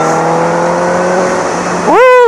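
A Honda CBR1000RR motorcycle pulls hard from sixth gear, its exhaust drone rising steadily and then jumping sharply in pitch as it surges, loud and close.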